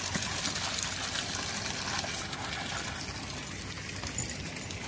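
Water overflowing steadily from an abundant water source, a continuous loud rushing trickle and splash that fills the whole stretch without pause.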